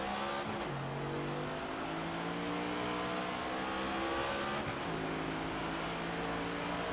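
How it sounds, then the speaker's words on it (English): Race car engines roar in NASCAR 25 at Homestead, a steady, loud, continuous drone with rising and falling pitch as revs shift, including two sharp gear-change dips, and no talking. "The roar of the engines are echoing across South Florida."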